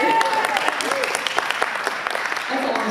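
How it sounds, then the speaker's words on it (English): A room full of people applauds with dense, steady clapping that holds throughout, with a voice faintly audible underneath. "Big round of applause for Zach."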